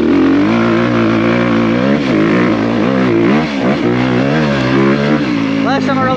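An old 250R off-road motorcycle runs on a dirt road with a loud, close engine drone. The revs rise and fall throughout, and there is a sharp rev near the end.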